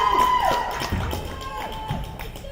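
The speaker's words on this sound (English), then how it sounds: "Quincy's crowd right in front of us, definitely into the match here." Crowd cheering and shouting at a competitive cheer districts match, a steady roar from the stands with youthful whoops rising over it. The crowd sounds close and lively throughout, with no clear speech.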